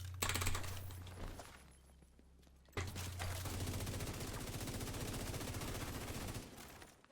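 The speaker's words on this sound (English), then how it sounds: "Literally, he fired like a full magazine and he couldn't hit me in the head" Gunfire from an opponent in The Division 2 video game rattles in a rapid, continuous stream of shots. It runs for several seconds at a steady level, with a brief earlier burst that fades away.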